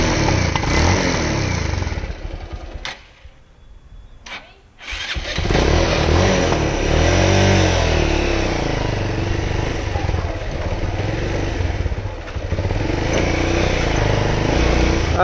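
A performance motorcycle engine runs loud and close through a short ride, with a brief drop near the start before the steady roar returns, and occasional voices faintly underneath.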